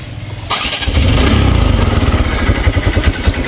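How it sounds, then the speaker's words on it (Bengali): A TVS Stryker 125 cc motorcycle engine cranks and catches after half a second, then settles into a loud, close, pulsing idle with a steady thumping rhythm. "এখন দেখাবো বাইকটা স্টার্ট করে সাউন্ড কন্ডিশন"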